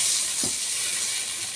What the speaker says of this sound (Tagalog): Hayaan natin siyang kumulo.